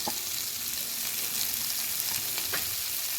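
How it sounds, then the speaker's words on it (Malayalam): Ginger, onion and garlic sautéing in oil with a little salt for egg curry, a soft, steady sizzle with a couple of light stirring clicks, fairly quiet and without speech. "അത് കഴിഞ്ഞ് ഇഞ്ചി, ഉള്ളി, വെളുത്തുള്ളി എല്ലാം കൂടി ഒന്ന് വഴറ്റുവാണേ."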